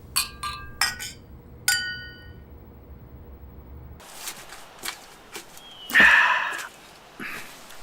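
Glasses clink together several times in quick bright chinks during a toast, followed by quieter shuffling and another sharp clink.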